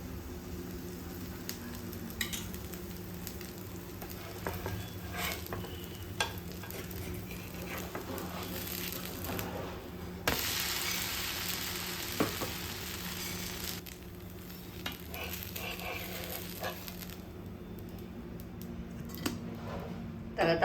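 A dosa frying in oil on a pan, a soft continuous sizzle at low level with occasional scraping and utensil clinks and faint talk in the background.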